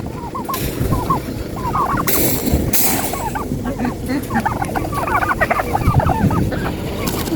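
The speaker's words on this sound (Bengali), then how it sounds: "মুরগি খুবই সুন্দর কিন্তু অনেক বড় বড়" Large chickens and other fowl at an old market in Saudi Arabia, with many overlapping clucks and gobbling calls close by over a steady busy crowd murmur.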